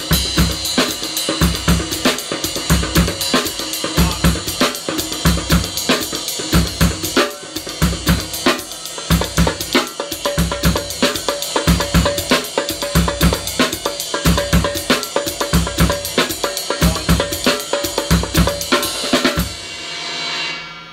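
A drum kit plays a polyrhythmic groove in 5/4, with ghost notes on the tom and accents brought down to the snare. Steady, loud, repeating hits run close and continuous for about twenty seconds, then stop abruptly.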